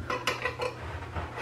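Butter knife scraping and clinking against a plate while trimming the crust edge of a rhubarb pie, a few light close scrapes and taps in a row.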